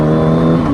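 Car engine revving up briefly while downshifting into a lower gear, a loud steady mechanical drone with a rising pitch and no talking.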